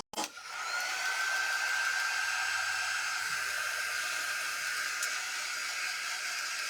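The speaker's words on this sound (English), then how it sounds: "let me just give this a quick dry so I don't smudge it." A handheld hair dryer blasts air over a freshly stamped paper craft, starting with a click and then holding a steady, loud, close whooshing roar.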